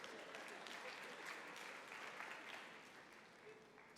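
Faint, steady applause from a small church congregation during a sermon, continuing for several seconds with scattered voices underneath and fading slightly toward the end.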